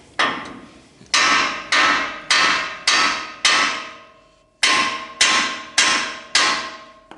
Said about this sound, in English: I just hit the spindle here. Now, you just need to give it a few love taps, you know, nice and easy.